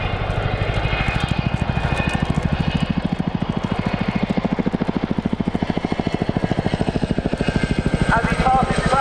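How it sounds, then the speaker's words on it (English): A powerful propeller aircraft flies a roller coaster display manoeuvre at the RAF Cosford Air Show, its loud, steady engine drone with rhythmic propeller pulsing filling the whole stretch without pause. "Pitching the aircraft up to 50 degrees from the horizontal before pushing over at the top, bunting the aircraft and racing back down towards its hard deck"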